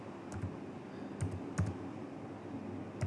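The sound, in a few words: typing a verification code on a keyboard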